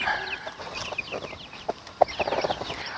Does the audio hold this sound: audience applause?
no